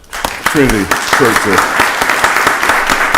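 Audience applause at a county board of commissioners voting session, scattered sharp claps building into steady clapping beneath a voice speaking.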